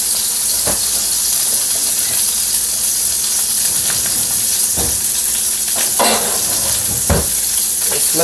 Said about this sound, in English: Then all we want is a good sear.